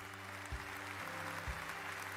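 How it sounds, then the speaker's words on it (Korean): Audience applause at a company seminar lecture, a short dense wash of clapping heard from a distance under a low hum. "마스터님께 다시 한번 큰 박수 부탁드립니다."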